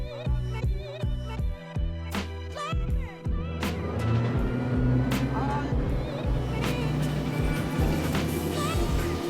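A 2026 Tige 25 Ultra ZX wakeboat runs under way, its engine a loud steady drone with rushing water and hull thumps, accelerating after a few seconds into a fuller roar, while people talk and shout over it.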